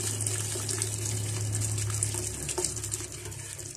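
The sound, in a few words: hot water poured into pressure cooker for bhuna gosht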